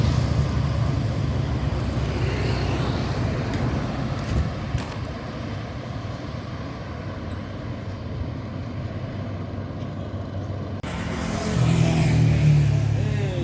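NPM Firkansa 53 intercity bus on the winding Kelok Sikabu road, a steady engine roar and rolling road noise heard from nearby, swelling louder toward the end as the bus passes.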